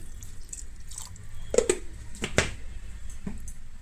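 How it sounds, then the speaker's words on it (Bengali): Hot water poured into a pot of cooked meat and potatoes, a few close splashes and drips over quiet background, with brief clinks in between. "এটা গরম জল করে রেখেছিলাম দিয়ে দিলাম"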